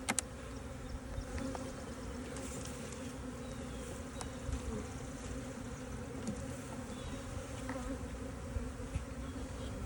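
Honey bees buzz around an open hive being inspected in spring, a soft, continuous drone with occasional nearer passes, faint and steady throughout.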